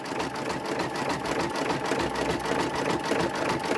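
A sewing machine satin-stitches around the edge of a quilted mug rug, a close, steady rapid needle chatter running continuously without talk.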